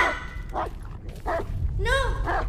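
Dog Bullet barks in the horror video game Blair Witch, a few short yelping barks at intervals, ending in a bright tonal whine, with low background rumble throughout.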